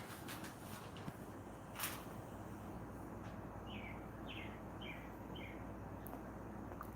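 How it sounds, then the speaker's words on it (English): A few short bird chirps repeat in a quick series, faint and distant over a steady low background hum. "There is a bird outside."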